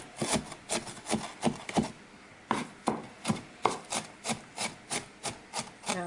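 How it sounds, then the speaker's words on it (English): A knife finely minces half a cup of onion on a board, giving two bursts of quick, rhythmic, close chopping strokes separated by a short pause, with no talking. "Going to finely mince half a cup of onion"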